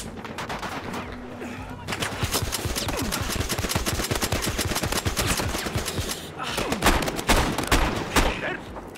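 Enemy gunfire in the video game Battlefield Hardline multiplayer: dense, rapid automatic bursts rattle almost continuously, loud and close, with a brief lull before more sharp shots cut in.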